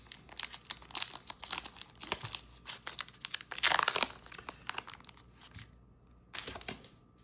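Yu-Gi-Oh Quarter Century Stampede booster pack foil crinkling and tearing open up close, a run of crisp crackles building to a loud rip, then a short final crinkle after a pause.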